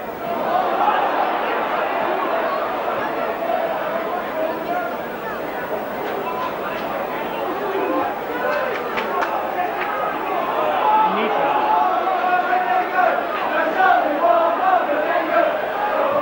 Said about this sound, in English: The crowd singing "There's only one Mal Meninga" because the Canberra Raiders team are guests of St Helens and watching this match